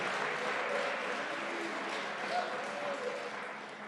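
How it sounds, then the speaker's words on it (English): Applause breaks out for a worker at a healthcare logistics company in Pennsylvania: faint, steady clapping from a modest indoor group, with voices talking underneath. "Give him a hand."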